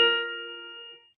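A piano voices a stack of fourths, the harmonic opening from a classic TV series theme, struck once as a single bright chord that rings and fades over about a second.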